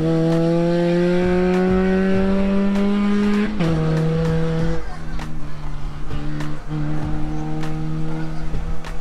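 Race cars roar close by with strong, steady engine tones that shift pitch as they shift gears, with some tire squeal mixed in, continuous and loud throughout; voices come faintly from nearby.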